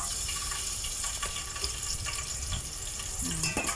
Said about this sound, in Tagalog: Ilalagay ko na po yung bawang.